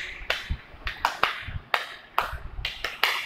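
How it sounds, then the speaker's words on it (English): Rhythmic clapping in a steady beat, about a dozen sharp claps over three seconds, close and clear with no talking, demonstrating the uniform mass applause of Nazi party workers. "like this rhythmic clapping."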